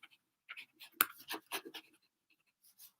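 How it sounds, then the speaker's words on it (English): Someone writes a note by hand, and a pen or pencil scratches across paper in short, quiet, close strokes with small gaps between them. "I better write that down"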